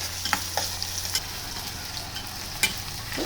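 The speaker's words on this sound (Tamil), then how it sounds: "இந்த சொடப்பு, அதாவது இந்த சலசலப்பு அடங்குற வரைக்கும் வதங்கினா போதும்" Onions sautéing in hot oil for a fish curry with a steady close sizzle, marked by occasional sharp clinks of stirring against the pan and a low hum underneath, with no voice.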